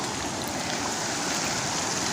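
Water rushes into a dry canal as a dense, steady, broadband roar of flowing water, loud and continuous throughout with no voices.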